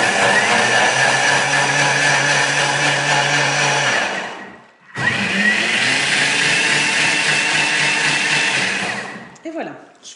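A food processor whirs at speed 10 on a reverse cleaning cycle, a loud steady motor roar that cuts out briefly near the middle, restarts, then winds down at the end.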